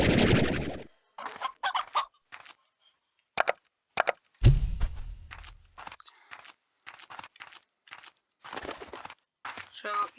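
Hens clucking in a chicken coop in the video game Slime Rancher: short, scattered clucks and squawks in irregular bursts with quiet gaps between them.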